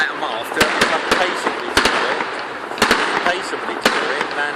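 Cheap, underpowered 2013 backyard fireworks let off in Wigan, with a string of sharp cracking bangs at irregular intervals, loud and fairly close, ringing over a steady outdoor hiss with some talk in the background.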